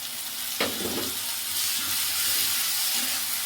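A paste of cumin, ginger, garlic and onion hits hot oil in a pan for a prawn dish, bursting into a loud, steady hissing sizzle after a brief clatter near the start, with no voices.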